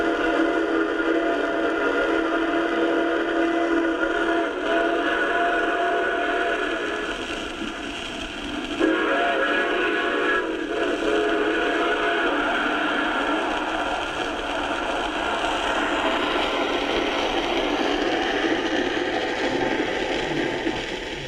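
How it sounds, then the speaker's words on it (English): Lionel smoke-puffing toy train locomotive running steadily with a sustained whistle-like tone and continuous chugging rumble, loud and close for the whole stretch, with a brief shift partway through. "Lionel's smoke-puffing locos."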